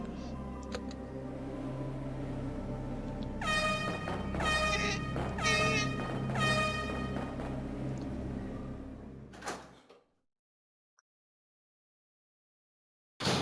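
Blaring air horn sound effect played over a Resident Evil 2 gameplay stream, several loud harmonic blasts in quick succession over background game audio, followed by an abrupt cut to silence and a brief final burst.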